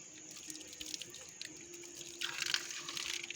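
Water runs steadily from a village tap in Ghimje, a hilly farming village in Nepal, giving a continuous hiss and splash with small drips that grow louder and more splashy toward the end; no one speaks.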